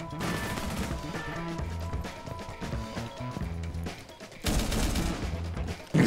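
Gunfire in Rainbow Six Siege with the Deimos operator during a ranked match: dense bursts of shots over steady game music and background sounds, ending in a louder, closer volley.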